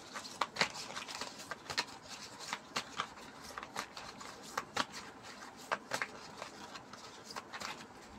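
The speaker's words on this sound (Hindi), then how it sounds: "अब इस डेक में से हम डिवाइड कर लेंगे कार्ड।" A deck of playing cards is divided into piles, making a run of soft, irregular snaps and slides that sound close and quiet, with no talking.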